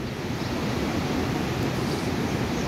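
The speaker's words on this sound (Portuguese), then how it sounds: "Mar tranquilo, não tá agitado nem nada" Calm sea waves wash onto Gravatá beach in Santa Catarina on a cloudy, muggy morning, a steady broadband rush of surf mixed with some wind. No one speaks.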